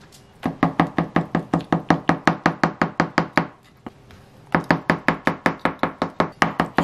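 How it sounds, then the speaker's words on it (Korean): A knife finely chops peeled boiled eggs on a cutting board in quick, even, loud knocks, two long runs of strokes separated by a brief pause. "이거를 잘게 다져주겠습니다"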